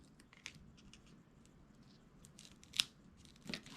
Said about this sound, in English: So I'm just going to cut it where I want it.